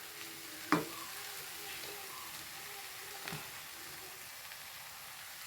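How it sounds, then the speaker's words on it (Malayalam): Grated coconut goes into a drumstick leaf stir-fry over a steady soft sizzle, with a sharp scrape of stirring near the start and a faint knock later. "ഇനി ഞാൻ ഇതിലേക്ക് നാളികേരാണ് ഇട്ട് കൊടുക്കുന്നത്"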